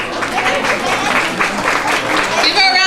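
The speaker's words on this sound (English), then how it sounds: "Give her a round of applause," Audience applause for a woman named Jill at a hospital holiday tree-lighting celebration, a steady wash of clapping lasting about three seconds at moderate loudness, with some voices mixed in.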